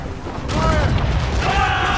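Ship cannons fire in Assassin's Creed Rogue: a heavy booming volley kicks in after a brief lull and rolls on loudly, layered with shouted commands and battle noise.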